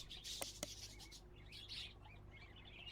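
Small birds chirp and tweet in a pet shop in the game Exotica: Petshop Simulator, giving faint, quick high calls with a couple of sharp ticks early on over a quiet background hum.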